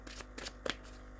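A tarot deck is shuffled close by, a quick sequence of soft papery riffles and flicks over about a second, faint and without speech.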